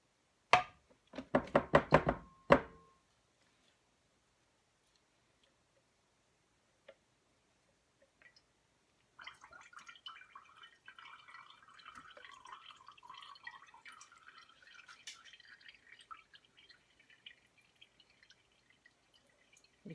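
Homemade butter being strained, with a quick burst of sharp knocks and clatters at the start, then long near-silence and a faint trickling, dripping texture, no talking.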